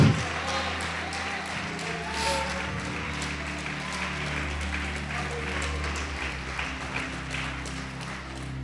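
Church congregation applauding during a worship service, dense steady clapping over sustained organ or keyboard tones, continuing at an even level throughout.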